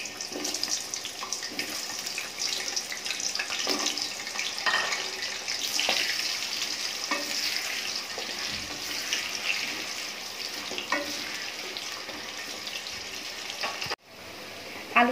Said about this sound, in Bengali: তেলটা গরম হয়ে গেছে, আমি আলু দিয়ে দিচ্ছি